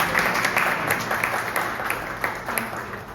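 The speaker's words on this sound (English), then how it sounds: "I think a bigger round of applause for women in the real estate." Audience members applaud women in real estate at an indoor panel event, a steady wash of clapping with a few sharper individual claps, moderately loud over a faint room hum.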